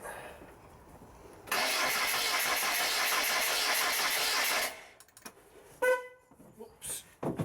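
A Lancia Delta engine, just refitted, cranks over for about three seconds in a loud, continuous starter whir that never fires into a run, then cuts off and leaves scattered clatter and a voice.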